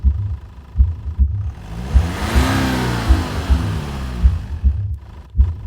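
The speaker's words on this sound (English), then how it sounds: "he'd heard someone revving their engine in his driveway" A car engine revs repeatedly in short bursts, rising and falling, with a steady rhythmic low thumping underneath throughout.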